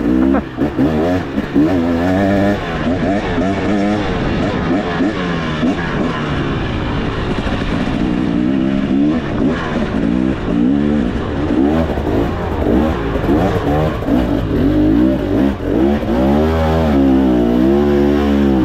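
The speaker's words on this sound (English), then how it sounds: "I'm also going to be taking it real easy on my buddy's motorcycle" A 2023 KTM 300 two-stroke dirt bike engine revving close by, its pitch rising and falling repeatedly with throttle changes, loud and continuous throughout.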